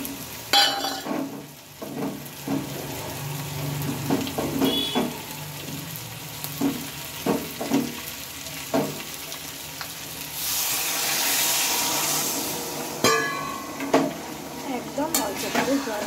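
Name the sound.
water added to frying boiled potatoes in pan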